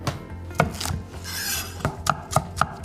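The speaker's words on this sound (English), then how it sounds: "Let's slice our scallions." A knife slices scallions on a chopping board, giving a series of sharp, close taps, a few spaced apart, then a quicker run of cuts near the end, with no talking.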